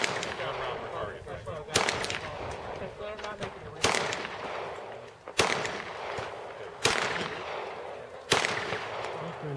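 Pistol shots ring out at a Glock shooting match, five sharp, loud reports spaced about two seconds apart, each followed by a short echoing tail over a steady outdoor background.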